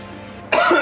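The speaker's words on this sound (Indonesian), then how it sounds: "Ntar gue batuk dulu." A single sharp smoker's cough bursts out after a brief quiet moment, loud and close.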